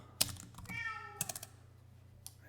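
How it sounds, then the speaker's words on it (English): A single drawn-out meow from a male house cat, fairly quiet and close, with soft keyboard-like clicks and a low steady hum in the background. "I don't know if you can hear my cat."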